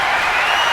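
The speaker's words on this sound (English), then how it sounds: "Sold out capacity crowd here in Pittsburgh." Sold-out arena crowd in Pittsburgh roaring and applauding during a WWE 2K25 match, a dense and loud wash of cheering that holds steady throughout, with no single voice standing out.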